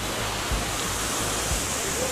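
A 500-foot waterfall in Keonjhar, Odisha, heard as a broad, steady roar of rushing water from nearby, with a couple of faint low thumps and no speech.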